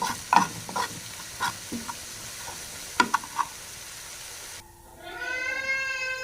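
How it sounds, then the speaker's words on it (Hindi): Flour being roasted and stirred in a pan for macaroni, with scraping strokes and light sizzle in the first part, then a quieter stretch with a tonal whine near the end. "मैदे को हम 1 मिनट तक भूनेंगे। 1 मिनट तक इसे हम रोस्ट करेंगे"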